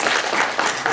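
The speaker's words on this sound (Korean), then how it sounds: "박수로 맞이해 주십시오" Audience applause at a Jeju forum on tourism and horse-related industries, welcoming a speaker with a dense, steady burst of clapping that fills the whole brief moment.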